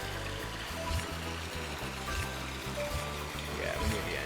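Rushing water pours down a water slide in the Ty the Tasmanian Tiger video game, a continuous splashing stream under a looping rhythmic game music bed, moderately loud throughout.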